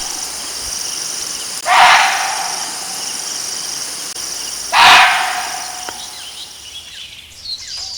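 Barking deer in Corbett forest giving its dog-like alarm call, two sharp, loud barks about three seconds apart, set against a steady background of crickets and insects.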